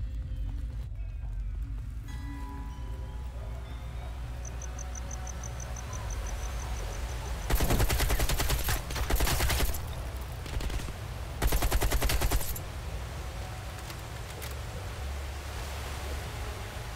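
Bursts of rapid gunfire in Call of Duty Black Ops Cold War crackle over a constant noisy background hum, in a few separated volleys, with no one speaking.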